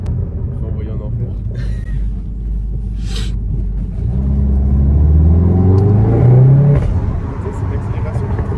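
A Seat Leon Cupra accelerates hard, its engine note climbing steadily and loudly through the revs for several seconds. People talk inside the cabin over the steady road rumble.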